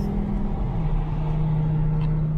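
A Lamborghini Gallardo heads onto a highway, heard from inside the cabin as a steady, loud engine drone with a humming low tone over road rumble, holding nearly constant through the short stretch.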